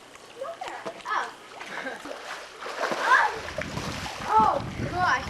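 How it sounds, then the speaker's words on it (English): A child splashes in water with repeated short splashes, close by, while children's voices chatter and call out over the watery sloshing. "you're splashing yourself."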